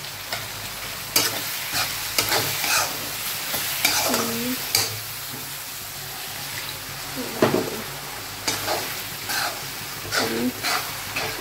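Freshly ground spice masala fries in a pan in a home kitchen, a constant sizzle broken by repeated clanks and scrapes of a spoon stirring against the metal.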